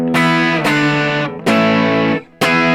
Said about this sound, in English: I've got just a little bit of drive